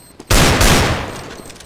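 A single heavy Desert Eagle pistol shot from a video game cracks sharply and loudly, then its echo tails off over about a second.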